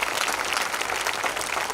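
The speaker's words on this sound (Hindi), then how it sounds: "एक बार तालियां बजा करके माहौल दे दीजिएगा।" Listeners at a Hindi humorous poetry gathering applaud, a brief, dense burst of many hands clapping at once, loud and even throughout.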